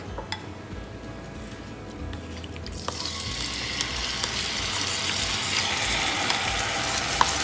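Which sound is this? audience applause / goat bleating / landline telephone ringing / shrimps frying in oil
shrimps frying in oil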